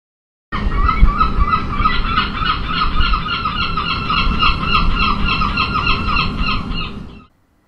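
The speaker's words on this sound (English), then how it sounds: "Firstly, a seagull. This should add to the atmosphere of being by the sea." Seagull cries layered as an added sound effect for a seaside scene, a loud, continuous run of repeated squawks and squeals lasting several seconds and then stopping abruptly.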